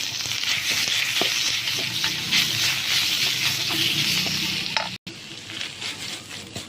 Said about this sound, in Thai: เอาหมูสับลงไปผัดเลยค่ะ